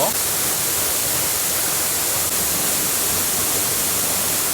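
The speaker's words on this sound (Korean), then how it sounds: "여기는 신불산의 그 유명한 사례소 폭포입니다" Paraeso waterfall on Sinbulsan mountain roars as a steady, loud, unbroken rush of falling water close by, with no other sounds standing out.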